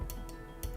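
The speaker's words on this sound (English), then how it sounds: "So when this goes up and down, the end stop should trigger and untrigger." A 3D printer end stop switch on a delta printer clicks as the nozzle is pushed down, a few faint, sharp ticks in quick succession over a quiet hum.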